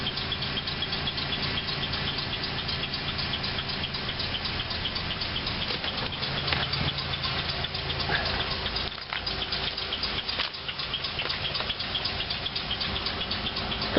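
Pontiac Grand Am GT engine idling after a cold start at 17°F, a steady, fairly faint hum with a constant droning tone and no talk over it.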